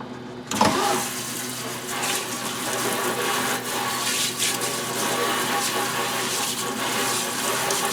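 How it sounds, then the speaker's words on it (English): Water gurgles and rushes steadily down a sink drain after an abrupt start, a continuous broadband wash that stays loud and close for several seconds, with no speech. "I'm just gonna let it drain itself"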